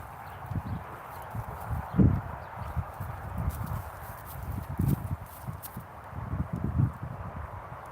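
Horses on a horse farm walk with a steady, uneven clip-clop of hooves, fairly close, over a rustling, noisy outdoor background.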